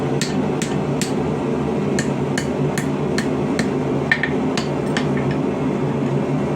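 A hammer taps a rebar snail scroll against the corner of an anvil: about a dozen sharp, ringing metallic strikes at an uneven pace, close up, over a constant background hum.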